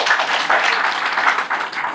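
Audience applause fills the hall at a company event in India, steady dense clapping running throughout without a break.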